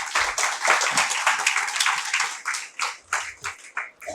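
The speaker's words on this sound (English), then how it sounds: "Please give a huge round of applause" Audience applause greets a speaker at a policy dialogue session, brisk, close clapping that swells early and then thins into scattered final claps before stopping.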